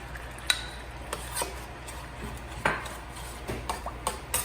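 A utensil stirs cream into a cream of mushroom sauce in a pan, scattered light clinks and scrapes against the metal over a faint steady background hiss.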